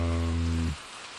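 Heavy rain weather in the Minetest video game: a loud, steady, close hiss of downpour with a low tonal hum, cutting off abruptly after under a second into near quiet.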